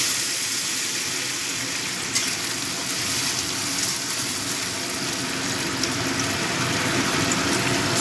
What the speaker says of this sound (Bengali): এবার এর মধ্যে দিয়ে দিচ্ছি পরিমাণ মতো গরম জল